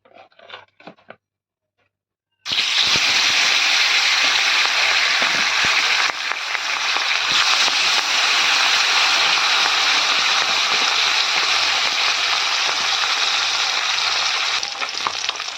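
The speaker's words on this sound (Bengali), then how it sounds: "দেখো কড়াইতে কিন্তু তেল গরম হয়ে গেছে। এখন কিন্তু মাছগুলো ভেজে নেব।" Fish drop into hot oil in a wok and set off a loud, steady sizzle and crackle that starts abruptly after a brief bit of handling and continues unbroken.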